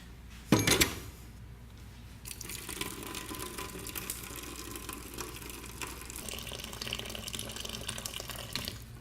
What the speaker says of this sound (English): And then you want to fill it up to the top of the metal of the portafilters.